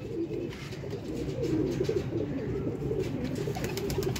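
Pigeons cooing nearby at a pigeon setup, with soft, repeated low throaty coos overlapping in a quiet, continuous murmur.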